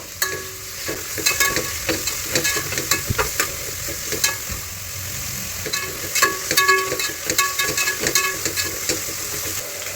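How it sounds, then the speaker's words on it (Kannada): Ingredients frying in a pan for ghee rice and chicken fry, with a steady close sizzle and hiss broken by frequent scraping stirs of a spoon against the pan, and no talking. "ಇವಾಗ ಇದು ಕಲರ್ ಚೇಂಜ್ ಆಗೋವರೆಗೂ ಸ್ವಲ್ಪ ಫ್ರೈ ಆಗಬೇಕು."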